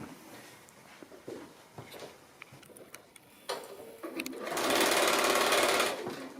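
A sewing machine runs stitching fabric pieces together for a pocket tissue pouch at a quarter-inch seam, starting with scattered clicks and taps, then a steady whirring run of stitching near the end.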